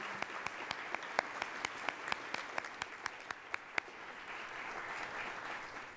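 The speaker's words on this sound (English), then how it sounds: "Let's give them another round of applause." An audience applauds at a public conversation event about healing loneliness in Ohio, with steady broadband clapping and several louder individual claps standing out near the front, fading slightly toward the end.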